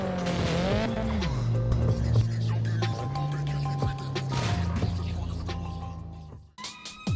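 A car drifts in the video game CarX Drift Racing 3, with a sustained engine drone, sliding pitch changes and squealing tires running continuously and fairly loud, cutting off abruptly near the end.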